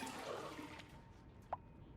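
Sewage water flowing through pipes in the Oxygen Not Included video game, a faint continuous gurgling water stream with one brief drip-like blip, quiet and alone.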